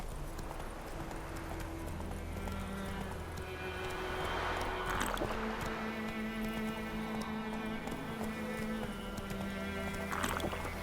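Horse hooves pounding in a steady gallop rhythm in The Witcher 3, continuous and fairly loud throughout over a low droning game soundtrack.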